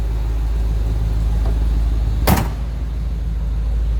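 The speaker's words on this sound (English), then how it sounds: "Door closes nicely." A single solid thud as the door of a 1962 Chevrolet Impala SS two-door hardtop shuts, set against a low, steady engine idle rumble.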